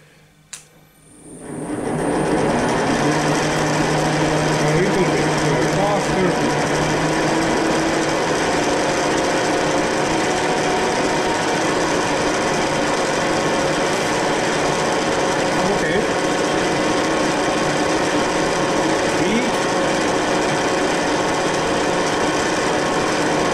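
A metal planing machine cuts a Honda 9.9 outboard cylinder head, starting after a brief quiet and then running as a loud, steady mechanical whirr and grind for the rest of the clip.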